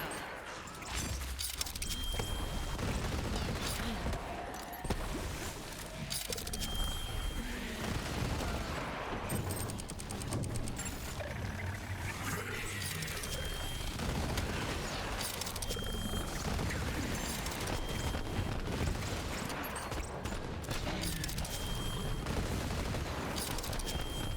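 Fully automatic Jakob revolver blazing away in Borderlands 3, rapid sustained bursts of shots with short pauses over about twenty seconds, mixed with game effects and occasional voices.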